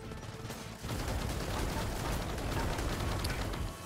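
Dense, continuous gunfire in Gears of War 4, a rapid burst of rattling shots that starts abruptly and holds steady for several seconds at moderate loudness before cutting off.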